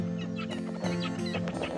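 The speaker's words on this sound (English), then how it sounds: "You hear the birds and stuff giving off there." Waterbirds calling at Lough Neagh, a large lake with perching posts and a pinnacle rising from the water, where cormorants roost; several honking, quacking calls overlap close by, in steady bursts.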